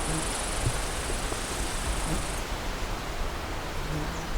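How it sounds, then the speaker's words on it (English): Insects buzz outdoors in pine woods, a dense steady drone close by that holds through the whole stretch, with a high-pitched insect whine above it for the first half and a few faint birdlike chirps. "Lots of insects too."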